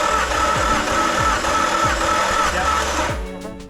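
A Nissan RB25 engine in a C33 Laurel cranks steadily over on the starter during a compression test with the crank angle sensor unplugged, giving a loud, even, rhythmic churning roll that stops abruptly near the end.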